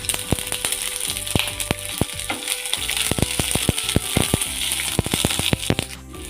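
Sliced garlic, ginger and green chillies fry in hot oil in a pan for a Kerala pulisseri, giving a loud continuous sizzle with dense crackles and pops close by.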